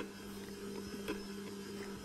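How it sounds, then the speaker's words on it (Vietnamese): A stand mixer kneads sourdough dough for fried Vietnamese bánh tiêu at medium speed (setting 5 of 10), giving a steady close motor hum with a faint rhythmic churn and a small bump midway. "nhồi ở tốc độ máy trung bình"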